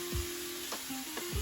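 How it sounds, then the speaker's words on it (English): A 1.5-pound marbled ribeye steak sears in a hot pan with a steady, close sizzle and a few soft thumps as it settles. "Set it in the pan away from us. We're gonna try and get a nice sear on that."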